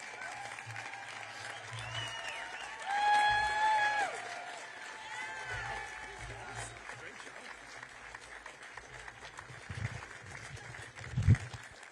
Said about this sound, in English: How about one more round of applause for head coach Patty Gasso?